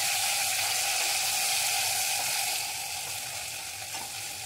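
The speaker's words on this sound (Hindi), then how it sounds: "शिमला मिर्च को ऐड करके दो मिनट आप हाई फ्लेम पे फ्राई कर ले" Potatoes and capsicum fry in a pan over a high flame, making a loud, steady, dense sizzle that eases slightly partway through, with no talking.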